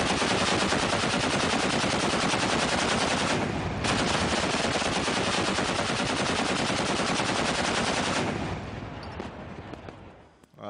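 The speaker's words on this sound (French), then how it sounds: "C'est un bruit de mitrailleuse." Sustained machine gun fire rattles continuously in a dense, rapid stream for about eight seconds, loud and close, then tapers off toward the end.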